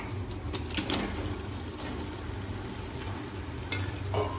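Mutton masala cooking in oil over high heat, a low steady sizzle with a few soft stirring scrapes, heard near and without speech.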